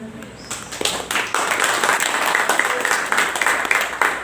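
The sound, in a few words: audience applause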